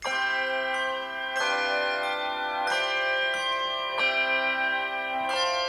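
Handbell choir ringing a sustained chord pattern, struck bells sounding together in steady repeated strikes about every 1.3 seconds, each ring shimmering and decaying into the next, bright and clear with no talking.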